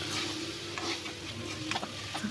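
Liver frying over a medium flame makes a soft, continuous sizzle, with faint scraping and clicking as it is stirred in the pan.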